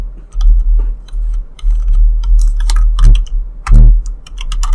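Computer keyboard typing, scattered clicks and short bursts of keystrokes, close and fairly clear over a low steady hum, with no talking.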